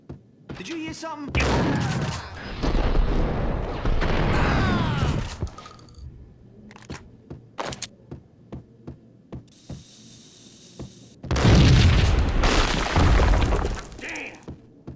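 An explosion from the Max Payne video game: a heavy blast with crashing, shattering debris early on, then a run of sharp isolated impacts, another burst of noise, and a final loud rumbling wave, with game dialogue heard around it.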